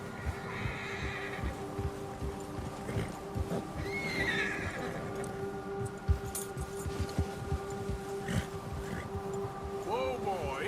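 In Red Dead Redemption 2, a horse whinnies and its hooves clop in a steady rhythm, close and clear, alongside wind and water ambience, with a voice speaking now and then.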